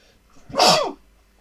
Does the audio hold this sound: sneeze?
yes